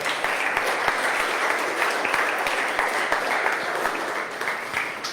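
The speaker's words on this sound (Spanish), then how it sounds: "Dale una ofrenda de palmas al Rey." Congregation applause at a church service rings out as a steady, dense wash of clapping that holds at even loudness throughout, with a faint voice now and then beneath it.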